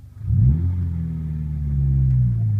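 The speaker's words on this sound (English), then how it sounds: "I'm going to move forward a little bit to the gate, and I'm going to show you how the needle goes from 1 to 4 in first gear" A manual stick-shift car pulls forward in first gear toward a gate, its engine note rising steadily and holding a loud, close rumbling hum with no talking.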